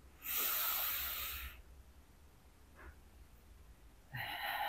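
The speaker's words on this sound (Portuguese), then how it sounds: "Eu agora quero te convidar a fazer uma respiração profunda e lentamente." A slow, deep breath: a long, loud airy inhale, a quiet pause, then the breath begins again near the end.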